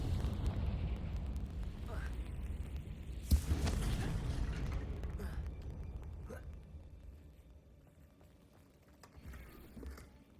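In Hogwarts Legacy, a Confringo fire spell goes off as a sudden fiery blast with a sharp burst and rumbling roar, fading into lighter game effects and background noise.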